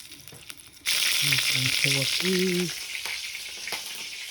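Oil in a hot pan, where onions are going in, spluttering and sizzling loudly after a sudden start, with a few short vocal sounds over it before the frying settles to a softer crackle.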